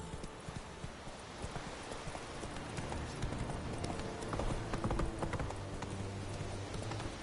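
Roach, the horse in The Witcher 3 video game, trots with a steady rapid clip-clop of hooves, dense and continuous against ambient game noise.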